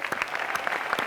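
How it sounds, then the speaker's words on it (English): Audience applause at a 2006 IJA award show, a short burst of brisk clapping from a crowd, fairly close and busy. "It's a big applause."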